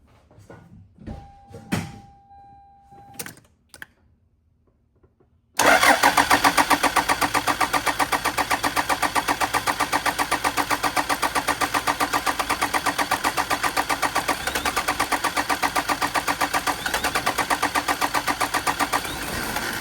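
Diesel engine of a KZJ78 70 Series Land Cruiser, after its fuel lines are bled, cranks after a few clicks and fires, then settles into a loud, steady, rhythmic clattering idle close by.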